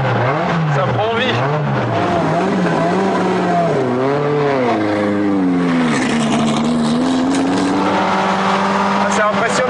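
A Renault rally car engine roars and revs hard, pitch climbing and dropping with gear changes, while someone talks over the loud, continuous motor noise.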